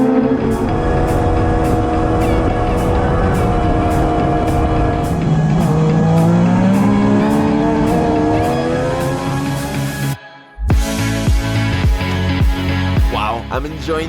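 A legend car at full throttle on a long race track, its engine pitch climbing through the gears with a loud close drone, then a brief cut before the tires squeal through the corner and the engine note rises again.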